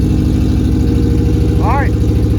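A rebuilt Honda Civic racecar engine runs at a steady, loud, rough idle up close, its pulsing rumble continuous, with a brief voice rising over it.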